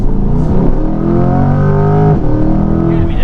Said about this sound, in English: I think that performance exhaust with the valves opened up.